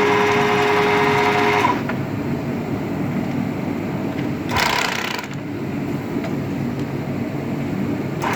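Loud, continuous whine and hum of a conventional Gambin 3M milling machine running in a machining workshop, with a brief higher-pitched surge midway; no talking.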